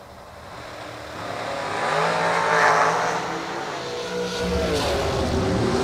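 Drag race car launching down the strip at a Six Shooter Showdown event, a loud engine roar that swells and rises in pitch, heard from trackside with a steady high-energy rumble throughout.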